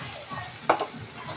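Chopped beetroot tossed into hot oil in a home kitchen pan, a soft steady sizzle broken by one sharp clack of a utensil against the pan and a brief stir, close and fairly quiet.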